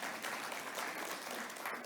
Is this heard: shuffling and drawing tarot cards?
no